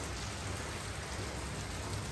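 Light drizzling rain in the mountain town of Sapa, Vietnam, a dense even hiss of drops on surfaces that holds steady throughout with no voices.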